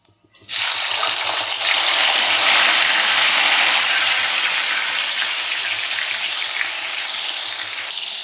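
Tomatoes drop into hot oil with crackled mustard seeds in a kadhai, setting off a loud, sudden sizzle after a brief quiet start that then roars on steadily and close, easing only slightly toward the end.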